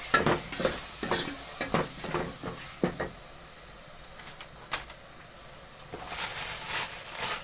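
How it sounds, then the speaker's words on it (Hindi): Tomato stirred into a sizzling spiced mixture for aatishi keema, quick bursts of utensil scraping over a constant frying hiss, then a quieter stretch with a single knock before the stirring picks up again. "अब टमाटर शामिल कर लेंगे"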